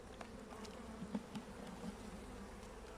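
Honeybees hum at a hive during inspection as a faint, continuous, low buzz with occasional louder passes of single bees close by.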